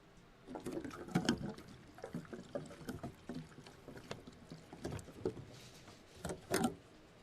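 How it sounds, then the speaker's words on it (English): Liquid gurgling and pouring with bumpy knocks as gas is pumped into a big gas-powered truck in a video game, irregular bursts at moderate level with no talking. "That was the noise of us putting gas in the truck."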